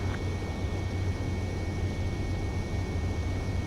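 Jet aircraft on landing approach in the video game Ace Combat 7: Skies Unknown, a steady low engine roar with a faint high whine, continuous and even, with no talking.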